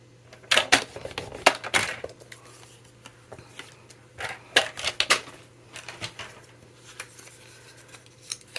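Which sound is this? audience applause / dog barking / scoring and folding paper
scoring and folding paper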